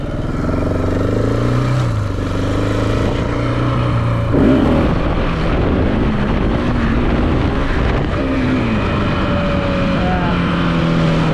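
A 2018 KTM 690 Enduro single-cylinder motorcycle under way, its engine droning loudly with pitch rising and falling through gear and throttle changes, buried in heavy wind buffeting on the microphone.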